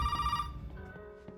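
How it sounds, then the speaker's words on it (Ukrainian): A phone rings in the Resident Evil 7 video game, a steady electronic tone that fades after a short burst and then gives way to quieter, lower tones. "Зоя дзвонить."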